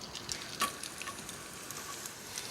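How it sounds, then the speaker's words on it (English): Finely chopped shallots sizzle in a pan of olive oil and butter, a steady close crackle with scattered sharper pops. "Shallots into the pan."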